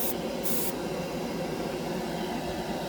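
An airbrush sprays Mr. Color lacquer paint onto a scale model: a steady, close, continuous hiss of air and paint, with no talking.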